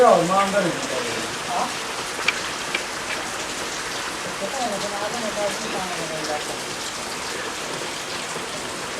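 Rain pours steadily onto a hard surface, a dense continuous patter with scattered louder drops, close by and unbroken throughout.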